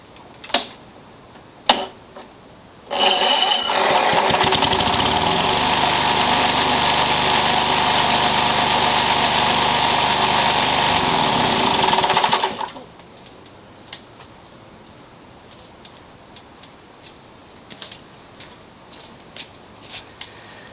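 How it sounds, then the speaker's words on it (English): A Tecumseh 4.5hp engine on a front wheel drive bagging Craftsman lawnmower fires up after a few clicks on its electric start, runs loud and steady for about ten seconds, then cuts out, leaving scattered small clatters. "I now have an electric starting front wheel drive bagging Tecumseh powered Craftsman lawnmower"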